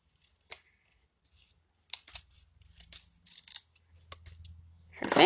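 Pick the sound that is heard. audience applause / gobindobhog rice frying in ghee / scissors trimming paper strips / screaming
scissors trimming paper strips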